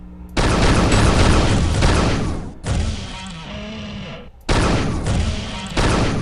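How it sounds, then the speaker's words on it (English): A dispersion pistol fires practice shots in Unreal II, producing loud, harsh blasts of noise in three separate bursts, each lasting a couple of seconds, with a short quieter tail between them. "The dispersion pistol doesn't pack a whole lot of punch, but it's always there for you because it never runs out of ammo"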